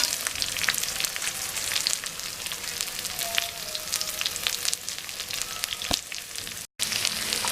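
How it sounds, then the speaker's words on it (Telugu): Chopped onions frying in a pan with dried red chillies, a steady close crackling sizzle with scattered pops and a brief cut near the end. "ఇప్పుడు తరిగిన ఉల్లిపాయలు వేసుకున్నాం."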